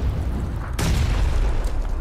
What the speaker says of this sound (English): they threw a grenade